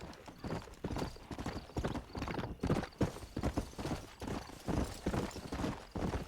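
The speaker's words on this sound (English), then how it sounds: "Hello, wild horses." Wild horses gallop in the Red Dead Redemption video game, a fast, rhythmic clip-clop of hooves on hard ground, fairly quiet and close, with an occasional faint whinny.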